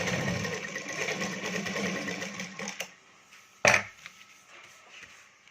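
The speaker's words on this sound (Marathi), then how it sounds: "चारही बाजूनं व्यवस्थित शिवून घ्यायचा" A sewing machine runs steadily for about three seconds, stitching around all sides of the lining of a 32-inch katori blouse, then stops; a single sharp knock follows in near quiet, with no talking.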